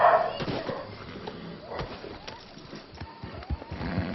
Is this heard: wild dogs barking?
yes